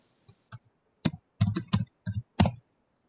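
Keys typed on a computer keyboard while filling in first and last name fields for an account profile; a few separate clicks, then quick clustered bursts of keystrokes, close and clear with no talking.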